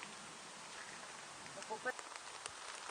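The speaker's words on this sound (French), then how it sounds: "Il se remet à pleuvoir un peu." Light rain pattering steadily in a cemetery lined with rows of sarcophagi, a soft, faint hiss with a few closer drips near the end and no clear voices.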